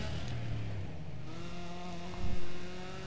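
A Charger R/T engine in Need for Speed ProStreet whines with rising pitch as it revs, a thin buzzy tone ending in a short louder surge.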